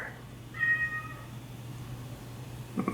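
A pet cat gives a couple of short, clear meows close by in a quiet indoor room, the first longer and the second brief near the end.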